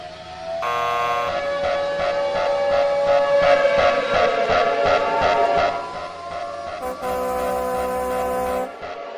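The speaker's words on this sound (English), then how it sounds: "Sound the alarm!" Loud, continuous alarm siren with a rising, warbling electronic tone that sweeps and pulses, cutting off briefly near the end before resuming.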